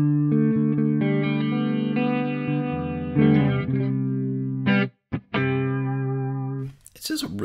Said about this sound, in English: This is, honestly, it's one of my favorite chorus pedals that I played in a very long time.